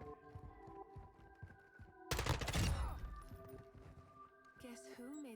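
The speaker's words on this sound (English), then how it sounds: "I better win this gunfight" A short, loud burst of rapid gunfire erupts mid-fight in Call of Duty Modern Warfare 2, lasting under a second and set against voices and tonal background sounds before and after.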